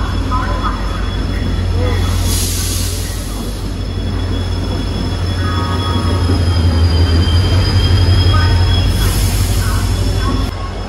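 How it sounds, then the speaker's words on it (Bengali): A train pulls into a station platform on a Digha trip in West Bengal: a steady loud rumble of wheels and carriages with high, drawn-out wheel squeal, and station crowd voices mixed in throughout. "দেখতে পাচ্ছেন আমাদের ট্রেন এখানে পৌঁছে গিয়েছে।"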